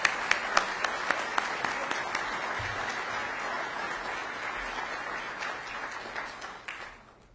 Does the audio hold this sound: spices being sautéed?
no